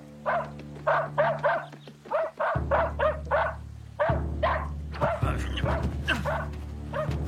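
A dog barks in a rapid, steady series of sharp yaps over a low droning background, with more commotion and noise joining in toward the end.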